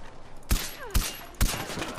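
Gunfire in the video game Far Cry 4: three loud, sharp shots spaced about half a second apart, each with a short ringing tail, over a low ambient game background.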